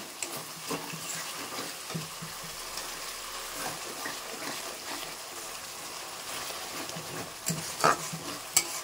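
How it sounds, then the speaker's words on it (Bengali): Spices with salt and turmeric sautéed in oil, a continuous close sizzle with scattered scraping stirs of a spatula and a couple of sharper knocks near the end, no voices. "তো দেখো আমি কিন্তু সুন্দর করে কষিয়ে নিচ্ছি।"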